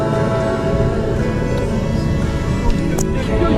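A sailboat's inboard engine runs during a transatlantic crossing from Saint-Martin to the Azores: a loud, steady low mechanical drone with a continuous hum throughout, and a brief bright click near the end.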